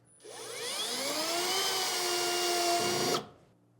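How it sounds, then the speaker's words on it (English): An Optronics LED utility touch light being screwed into place: a close, loud motorized whir that quickly rises in pitch, holds steady for about three seconds, then cuts off sharply. "We'll screw this into place."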